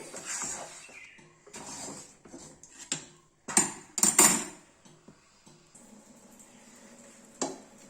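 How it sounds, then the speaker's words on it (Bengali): Thick rice-flour batter for chandan kath or palo pitha is stirred in a kadai, with irregular clinks and scrapes of a utensil against the metal pan, close but fairly quiet between louder knocks. "এটা এইভাবে সমানে নেড়ে যেতে হবে, নাহলে কড়াইয়ের গায়ে লেগে যাবে"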